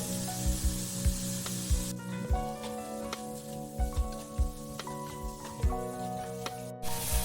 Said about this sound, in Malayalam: ഈ തക്കാളിയും പച്ചമുളകും ഇഞ്ചി ഇടുന്നുണ്ട്